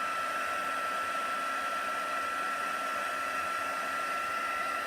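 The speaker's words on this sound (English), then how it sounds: "heat tool again and just dry it off." A heat tool blows steadily on a Christmas craft project to dry it, producing a constant close, loud whooshing roar with a thin whine on top and no talking.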